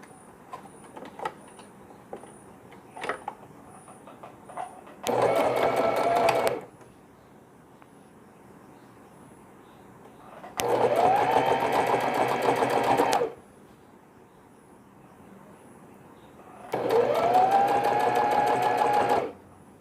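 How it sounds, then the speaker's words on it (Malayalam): A domestic sewing machine stitching fabric for a washable newborn carry nest runs in three steady whirring bursts of a few seconds each, separated by quieter pauses with small clicks and handling of cloth. "അതുകൊണ്ട് കുറച്ച് ദൂരം വരെ മാത്രമേ ഇത് സ്റ്റിച്ച് ചെയ്യണ്ടൂ"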